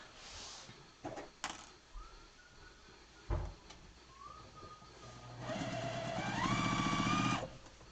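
A sewing machine stitches quilt pieces together in a short, steady whirring run of about two seconds near the end, preceded by quiet handling knocks and rustles of fabric.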